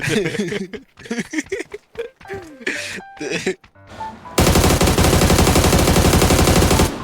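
Sustained, loud automatic gunfire in PUBG Mobile erupts after a stretch of excited talk and laughter, a rapid unbroken burst of shots continuing for several seconds.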